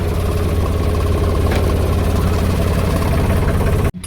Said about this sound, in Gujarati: આપણે પહોંચી ગયા ટ્રેક્ટરે અને કરી દીધું ચાલુ